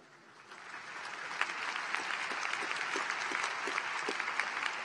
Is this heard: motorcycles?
no